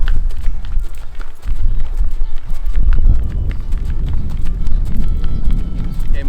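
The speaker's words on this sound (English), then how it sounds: "this is a canter, or in Western, they would call this a lope" Horse cantering in an arena, rhythmic muffled hoofbeats thudding in a steady three-beat pattern with some clattering, moderately close, with faint background voices.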